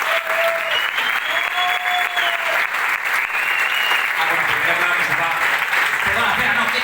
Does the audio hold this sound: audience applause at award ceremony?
yes